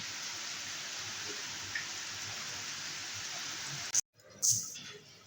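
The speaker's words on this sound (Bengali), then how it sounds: "দেখুন আকাশ অন্ধকার হয়ে কি জোর বৃষ্টি এসছে" Heavy rain pours down steadily under a darkened sky, a dense close hiss that cuts out abruptly near the end before a few louder splashes and rustles return.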